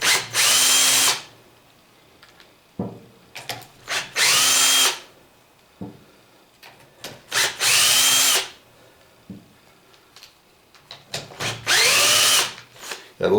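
An old Ryobi power drill whirs in four or five loud, second-long bursts while a Tremec T5 transmission is taken apart, separated by quiet gaps filled with small clicks and metal handling noises.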